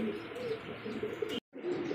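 A single pigeon coos nearby, low rolling calls repeating over faint background noise, broken by a short moment of near silence.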